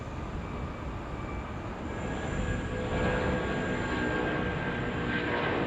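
An airplane takes off with a stuntman hanging onto its side, a steady broadband engine roar that builds slightly in loudness and holds without letting up.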